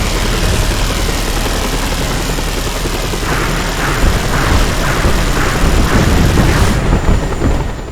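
Helicopter in Just Cause 2, its dense, loud rotor and engine roar running steadily throughout with faint rhythmic chopping pulses partway through, and no voices.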